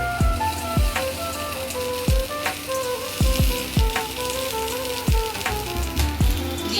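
Bitter gourd and fish roe fry being stirred in a hot pan with oil, a steady loud sizzle under repeated spatula strokes and knocks against the pan, close up and without speech.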